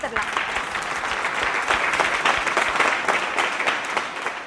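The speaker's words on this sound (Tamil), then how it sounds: "பிரகலாதனுக்கு ஒரு நல்ல கைத்தட்டல் கொடுத்துடலாம்." A school audience applauds a student speaker at a Tamil speech event, dense sustained clapping filling the room from start to finish.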